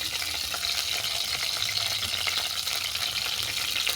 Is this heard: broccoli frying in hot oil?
yes